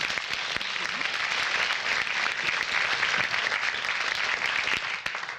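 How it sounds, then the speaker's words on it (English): Audience applause at a research-on-the-web conference session, a dense, steady wash of many hands clapping that holds at a fairly even level for several seconds, with no speech over it. "Can we get another round of applause for all of the demos?"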